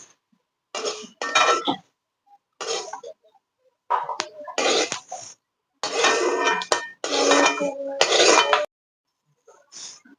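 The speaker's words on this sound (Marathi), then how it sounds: "परत दुसरी बॅच अशाच प्रकारे भाजून घ्यायची आहे तीळ" Sesame seeds dry-roasting in a pan for tilgul are stirred in short, loud bursts of gritty scraping, separated by quiet pauses, close up with no talk.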